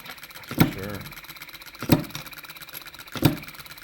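A mini hit-and-miss engine from a Stirling kit runs with three sharp firing beats about a second and a half apart over a steady mechanical hum, close and moderately loud.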